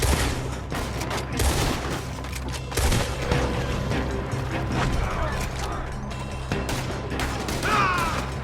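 Gunfire in Red Dead Redemption 2, a dense, continuous volley of shots and booms running throughout at close range, mixed with shouting and game sound effects.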